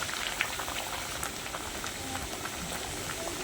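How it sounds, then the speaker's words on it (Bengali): Chhana kachori fry gently in hot oil, a steady fine bubbling sizzle with scattered small pops, close and fairly quiet with no voices. "আর কুচুরিগুলো হালকাভাবে ভাজবো বেশি লাল করব না হালকা করে ভাজবো"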